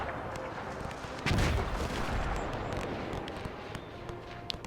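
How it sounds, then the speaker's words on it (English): Artillery shells land nearby in the WW1 strategy game Between Empires: a heavy, booming impact bursts out about a third of the way in, over a continuous rumble of distant gunfire and explosions. "Ooh, the artillery is landing close to me."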